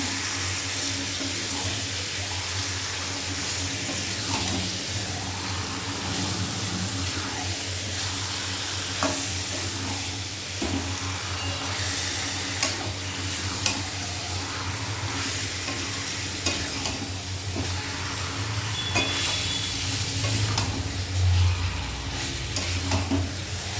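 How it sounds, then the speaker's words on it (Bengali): Marinated chicken being slowly stirred through spice masala in a pan, a steady sizzle with soft scraping and stirring strokes that continue evenly throughout, no talking. "এবার এটাকে আস্তে আস্তে নাড়া দেবো।"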